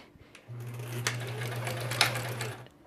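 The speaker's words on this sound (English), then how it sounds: "Gotta say hi to the sewing machine when you start working with it." A sewing machine whirs steadily for about two seconds at close range, a low mechanical hum with faint clicks, then stops.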